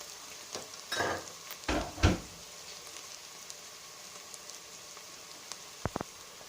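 Onions fry in a pan for a vegetable soup, stirred so they don't stick: a few scraping strokes early on, then a quiet, faint sizzle with a couple of sharp clicks near the end.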